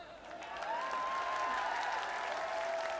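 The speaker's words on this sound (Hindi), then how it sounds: "एक बार जोरदार तालियां बजा दो इन लोगों के लिए।" Crowd applause at a political rally at Jantar Mantar, a sustained bed of clapping that swells and holds, with a voice speaking over it at times.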